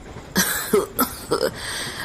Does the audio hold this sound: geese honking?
no